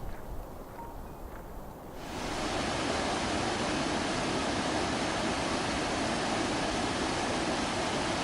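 The Rio Arazas cascades down the mountain in the Ordesa canyon in the Pyrenees. After a quieter start, a loud, dense, constant rush of falling water swells in and fills everything.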